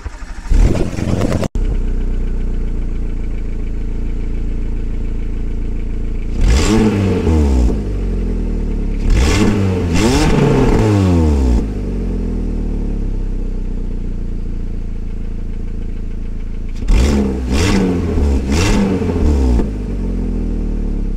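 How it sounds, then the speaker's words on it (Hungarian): A small 60-horsepower car bought for 450 euros, recorded close to the engine bay behind the front wheel, cranks and starts, then settles into a low idle broken by three loud revving bursts that rise and fall back each time. "Ezt hallgassátok, hogy milyen vérmes 60 csikó dübörök benne."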